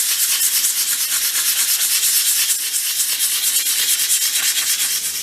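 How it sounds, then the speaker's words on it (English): Hand sanding of a small wooden panel piece for a miniature Christmas room box, a steady close scratchy rubbing in quick, even back-and-forth strokes with no talk. "I'm now going to give this a gentle sand just to get rid of a couple of little pencil marks"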